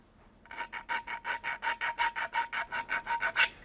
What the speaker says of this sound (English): That zip sound when I scratch the side of this 3D print,